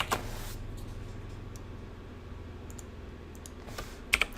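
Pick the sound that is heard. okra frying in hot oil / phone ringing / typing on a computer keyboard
typing on a computer keyboard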